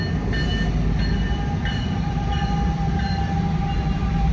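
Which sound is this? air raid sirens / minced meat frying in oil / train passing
train passing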